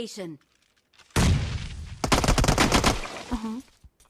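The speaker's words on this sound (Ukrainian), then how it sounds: "Він по мені стріляє." Bursts of rapid automatic gunfire in the video game PUBG Mobile, Metro Royale mode, loud and close, crackle through the middle of the clip, with brief voices before and after.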